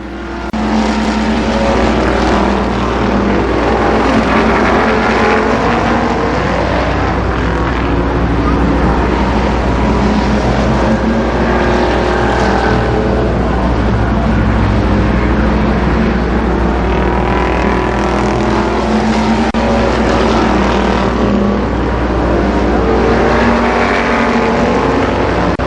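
Stock cars roar around the Columbus Motor Speedway oval at a 1992 race, a loud continuous engine drone that swells and fades as cars pass, with a race announcer's voice faintly audible in the mix.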